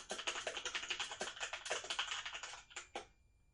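Rapid, steady keystrokes on a computer keyboard while a survey question is entered, close and crisp, running for about three seconds before stopping.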